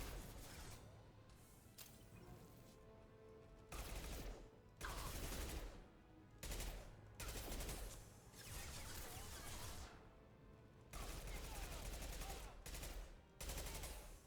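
Automatic weapon fire in the video game Mass Effect 2 comes as repeated long bursts of rapid gunshots, loud and dense, with short gaps between volleys.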